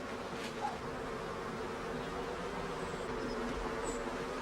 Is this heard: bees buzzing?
yes